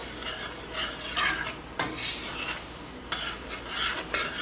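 A spoon stirs a blueberry-maple mixture cooking in a pan on medium heat, giving steady close scraping and swishing with a faint sizzle and a couple of sharp clinks against the pan.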